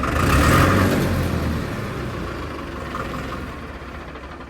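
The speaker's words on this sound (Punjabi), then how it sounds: "ਟਰੈਕਟਰ ਦੀ ਆਵਾਜ਼ ਘੈਂਟ ਆ" A tractor engine runs steadily and close by, a loud, rough rumble that swells slightly early on and then holds at an even level, with no talking.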